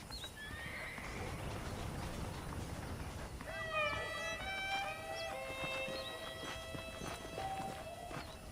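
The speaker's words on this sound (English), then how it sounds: "The horses are saddled up over here." Saddled horses in the Red Dead Redemption game on Nintendo Switch whinny in drawn-out neighs over soft hoof clip-clops, fairly quiet, with faint ambient background and no talking.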